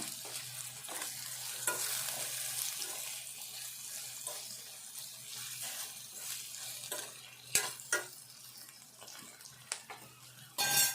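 Ginger garlic paste sizzles in a pan for a Telangana drumstick and green chilli curry, a steady close frying hiss broken by scraping stirs and a few sharp clicks of the spoon against the pan.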